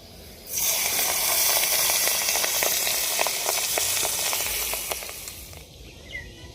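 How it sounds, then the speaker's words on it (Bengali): Prawns hit hot oil in a wok with a sudden loud hiss that holds steady, spattering with sharp pops, then fades away after about five seconds. "এবার চিংড়ি মাছগুলো ভাজা করে নেব।"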